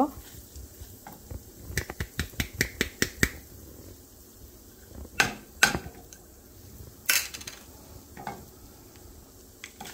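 Ingredients for pineapple gojju roast in a pan, heard as a run of sharp, rapid clicks and taps of a utensil against the pan over a faint sizzle, then a few scattered louder knocks.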